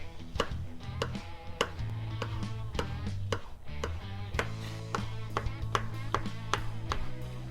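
Knife chopping seeded tomatoes for pico de gallo on a cutting board, a steady run of quick, sharp taps at a fairly even rhythm, close and clear, with a low hum underneath.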